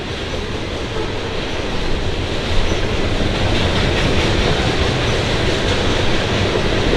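A train rolls past on the tracks near a cemetery by a highway, a loud, steady rumble with rattling wagons and clickety-clack that holds throughout, no voices.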